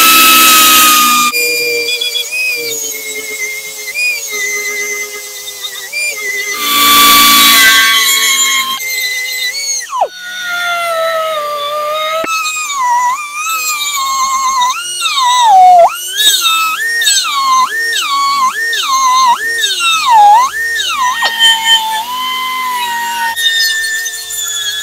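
A compressed-air tool hisses and shrieks while blasting paint off an old Marx toy engine, with loud bursts of air and wavering whistling tones that rise and fall in quick repeated pulses toward the end.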